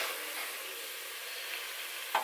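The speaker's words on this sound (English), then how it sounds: "I'm putting a couple tablespoons of extra virgin olive oil." Extra virgin olive oil sizzles in a pan, a steady, faint, hissing crackle that stays even for a couple of seconds and ends with a brief sharper tick.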